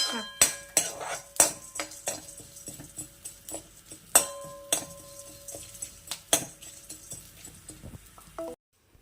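Urad dal roasts in a pan for a leaf thambuli while metal utensils clink and scrape sharply against it, a string of close, bright knocks at uneven intervals over a faint low sizzle.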